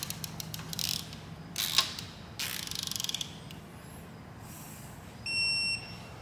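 Ratchet torque wrench tightening cylinder head studs on a BMW N54 engine during a rebuild, a few quick clicking bursts and a brief run of rapid ratchet clicks, then a steady tonal beep near the end.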